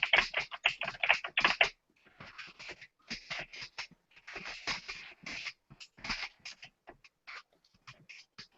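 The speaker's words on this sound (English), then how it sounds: "I can't type while Jackie's typing" Bursts of fast typing on a computer keyboard, close and crisp, broken by short pauses between flurries of keystrokes.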